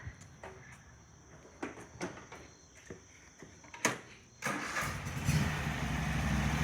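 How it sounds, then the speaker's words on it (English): A 2012 Cub Cadet zero-turn lawnmower with a 48-inch deck cranks with several clicks and short turnover attempts, then catches and settles into a steady, fairly loud running engine outdoors. "2012 Cub Cadet lawnmower with 242 hours and a 48-inch deck. Fire up."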